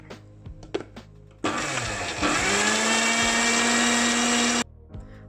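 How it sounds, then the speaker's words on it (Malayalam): A blender grinds garlic with a little oil into paste, a loud steady whir starting abruptly, holding for about three seconds and cutting off, with faint taps before and after. "ഞാൻ ആദ്യം ഇച്ചിരി എണ്ണ ഇട്ടിട്ട് നമുക്കതൊന്ന് അരച്ചെടുക്കാം"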